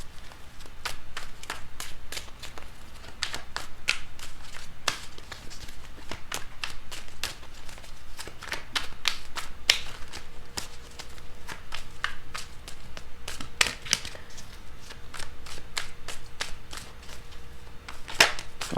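Tarot cards being shuffled and drawn, a steady run of close, crisp snaps and flicks of cardstock with soft rustling between them, continuing throughout with no talking.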